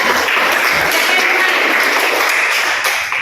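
A classroom of students gives loud, dense, steady applause, a continuous close wash of many hands clapping with no break.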